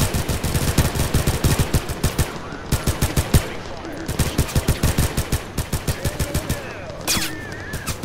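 Heavy gun fire in a video game, rapid bursts of loud, close shots in a fast machine-gun rhythm with short pauses between volleys.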